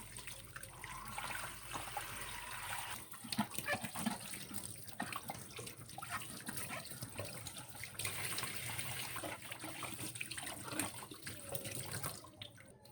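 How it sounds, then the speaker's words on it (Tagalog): Ingredients for a lemon pasta sauce, including mushrooms, are rinsed under a running kitchen tap, with a steady, close water stream splashing continuously, briefly interrupted partway through before flowing again. "Hugasan natin."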